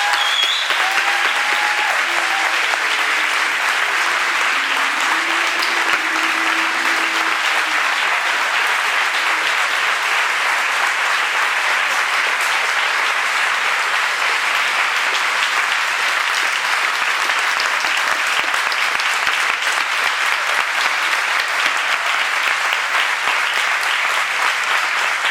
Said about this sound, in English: if everyone could please give a round of applause for Mr.